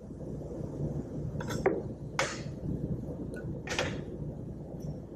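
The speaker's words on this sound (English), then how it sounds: "So we'll get that fennel going in the pan." Sliced fennel goes into a pan to roast, giving a few scattered clinks and scrapes of metal and utensils over a steady low background hiss, with no talking.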